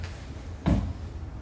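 A kitchen drawer in a home slides and bumps shut once, a short dull thud partway through against a quiet room hum.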